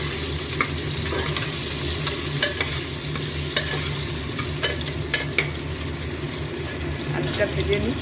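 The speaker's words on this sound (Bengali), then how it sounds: "আলুটা ভেজে নিই" Potato pieces fry for a mutton curry, filling the frame with a dense, steady sizzle and bubbling hiss, with occasional scraping clicks from stirring, fairly close and loud throughout.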